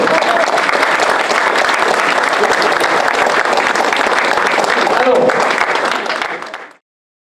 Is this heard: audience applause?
yes